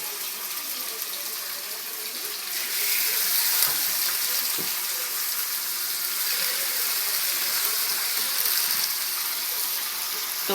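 Spanish-style pork chops sizzle and hiss steadily in a hot pan, a loud, continuous frying roar that swells slightly after the first few seconds and holds without talking.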